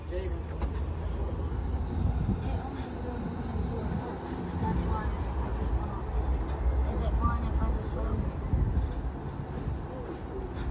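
Steady low rumble of a slow-moving Disney theme park tram at night, with rolling wheel and motor noise throughout, nearby and continuous, with faint voices mixed in.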